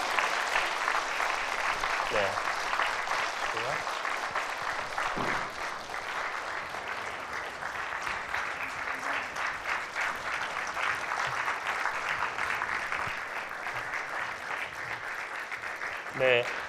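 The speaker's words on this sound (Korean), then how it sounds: "우리 박수로 환영해 주시면 감사하겠습니다." A church congregation applauds at a Christmas baptism service, welcoming three newly confirmed members; steady, sustained clapping fills the room under a brief spoken word from a man.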